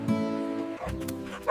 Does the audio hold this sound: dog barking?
yes